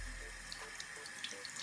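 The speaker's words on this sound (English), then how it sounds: "I rinsed it under the water, and it's coming off like super easy" Water runs steadily from a bathroom tap into a sink, a soft continuous hiss with faint splashes, while a hydrating face mask is rinsed off.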